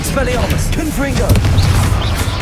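Confringo spell blasts in Hogwarts Legacy, a few booming magical bursts close by amid continuous combat sound effects, with a voice calling out a spell.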